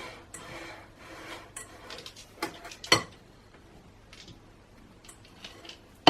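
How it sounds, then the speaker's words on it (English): Spatula scrapes around a mixing bowl of gluten-free, yeast-free milk chocolate chip cookie dough, giving soft irregular scrapes and taps with one sharp knock near the middle, close and quiet. "And now scraping down our mixing bowl."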